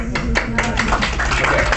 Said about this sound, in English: short applause because we're gonna kick us out